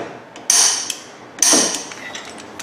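Wrench working on a Jeep WJ ball joint: two sharp metallic clanks and creaks about a second apart, each followed by a brief ratcheting scrape, close and fairly loud in a quiet shop.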